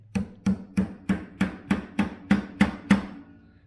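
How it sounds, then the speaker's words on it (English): Ten evenly spaced hammer taps ring out in a steady rhythm, each a sharp metallic knock with a short decay, as a part is driven onto a Marlin 30-30 rifle barrel. "Let's go ahead and just keep hammering it down."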